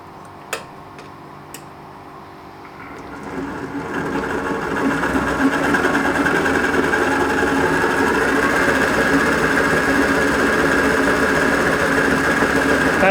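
Mini lathe with an ELS conversion motor starts after a couple of clicks and then spins up to a steady, loud whining hum that holds with a faint rhythmic ticking through it.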